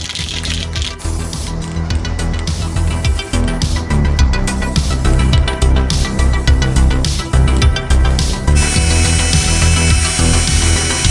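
A plastic medicine cup, a replacement part for a 1960s Jumbo bubble-blowing elephant toy, is scuffed up. The scraping is loud, close and continuous and shifts in tone near the end.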